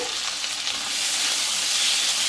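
Chopped tomato and onion fry in a pan with salt, giving a steady, close hiss of sizzling that swells slightly louder toward the end, with faint stirring underneath and no voices.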